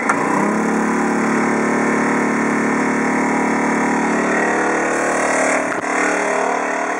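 A small gasoline engine starts and then idles steadily at close range, a loud constant drone with a brief dip near the end, and no one speaks.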